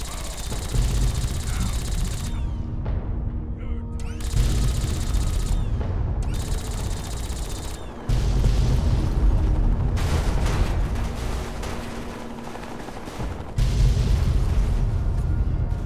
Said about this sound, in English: I always love this explosion so much.